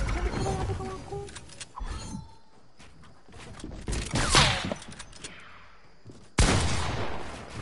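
Pump shotgun blasts in a video game, a few loud broadband bursts scattered among busy game noise, with one big shot near the end.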